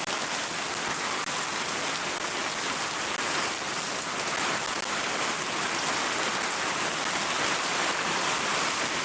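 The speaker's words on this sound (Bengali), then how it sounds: "আমাদের এখানে তো অনেক বৃষ্টি হচ্ছে দেখতে পাচ্ছেন" Heavy rain pours steadily in Shariatpur, Bangladesh, a dense, continuous hiss of drops hitting surfaces at close range, loud and unbroken throughout with no voices.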